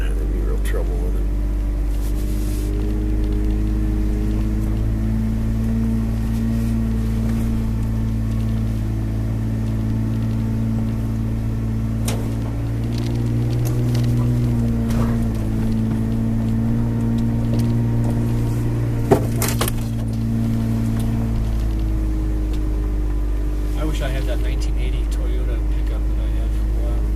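A vehicle with a 22R motor driving: a steady low engine drone and road rumble runs throughout, with occasional bumps and rattles, while people talk over it.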